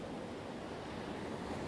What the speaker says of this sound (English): the waves are absolutely phenomenal